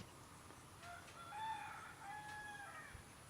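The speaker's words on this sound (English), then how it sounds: "You hear that rooster?" A rooster crows at a distance on an early morning in Guam, its faint, drawn-out calls rising over quiet ambient hiss for a few seconds.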